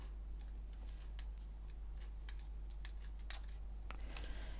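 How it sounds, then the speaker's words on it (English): A slightly blobby spray bottle is pressed gently to release small drops of water for watercolour painting, giving a scattered series of soft, sharp clicks and spurts, close and quiet. "I've chosen a spray bottle which is a little bit blobby. So I'm only going to depress it gently"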